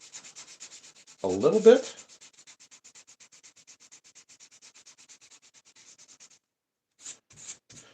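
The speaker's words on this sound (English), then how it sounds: "I do this because you clean your sandpaper doing it that way." Sandpaper rubbed over a model patch on a model railway layout, a steady run of quick rhythmic scratching strokes up close, with a brief burst of speech early on and a few last strokes after a pause.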